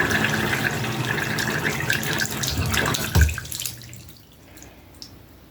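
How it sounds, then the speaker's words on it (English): Water from a Moen shower valve with a newly replaced 1222 cartridge rushes steadily and fairly loud, then cuts off abruptly after about three seconds, leaving faint drips and quiet room tone. "I'm gonna turn the water back on and see if it's leaking."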